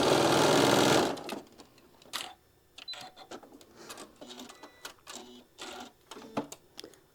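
Sewing machine stitching quilt pieces for a crazy compass block, a loud, steady run of about one second, followed by soft scattered clicks and handling noises.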